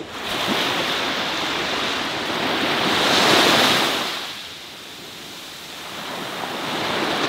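Sea waves breaking on Fuengirola beach in winter, a loud continuous wash of surf that swells, recedes and builds again, with wind buffeting the microphone.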